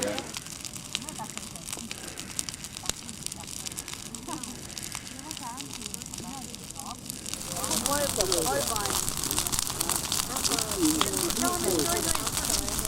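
A bonfire burns on a lakeshore in Mongolia, its crackle steady and nearby, growing louder and busier in the second half, with people talking in the background throughout.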